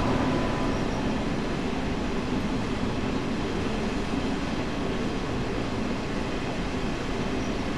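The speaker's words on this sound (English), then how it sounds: "Pretty noisy locomotive." Locomotive running on the Ruhr Sieg Nord line in Train Sim World, a steady loud rumbling drone with rail noise throughout and no pauses.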